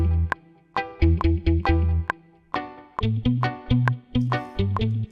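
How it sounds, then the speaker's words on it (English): Modern reggae beat in which a muted, palm-damped guitar chops short staccato chords over a deep, rounded bass line, with light delay and reverb trailing each stab and a steady, loping groove throughout. "let's listen to what the muted guitar is going to be like with the bass line"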